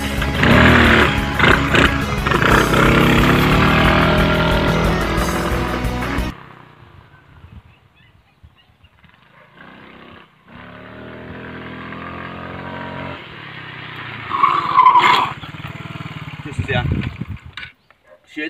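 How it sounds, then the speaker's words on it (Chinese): A motorcycle engine revs loudly and roughly for several seconds as the rider drifts and skids, then drops to a faint, distant idle with scattered noises, a short sharp tire squeal, and someone talking partway through. "而机车甩尾呢，我们现在来先来示范一次"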